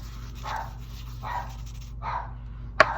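Indoors, a dog barks repeatedly at a man in the shower: three close barks at an even pace over a constant low hum, then a sharp short knock near the end.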